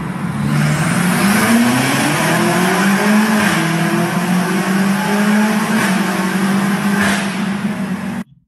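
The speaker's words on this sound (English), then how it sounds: "Now, please look at this acceleration." A BMW car accelerates hard, its engine note climbing steadily and loudly in pitch for several seconds before cutting off abruptly, with no voices over it.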